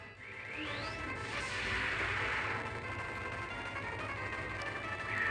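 Mega Charizard's Fire Fang attack in the Pokemon game Sovereign of the Skies plays as a loud, sustained burst of sweeping whooshes and crackling impact noise, with a rising swish near the start and a dense roar filling the whole stretch.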